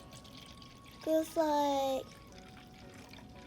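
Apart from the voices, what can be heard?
pouring vinegar into a cup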